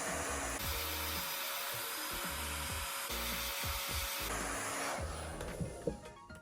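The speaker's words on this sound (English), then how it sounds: "I would normally use a hair dryer, which I'm going to do now for the Pros-Aide" A hair dryer blows with a steady, close whoosh, switching settings a couple of times before winding down near the end.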